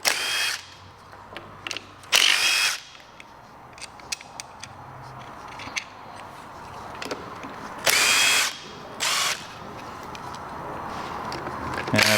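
An 8mm socket on a power driver works at the brake hose clamps of a Vespa 150 3V scooter, with several short loud whirring bursts among quieter clicks and handling sounds.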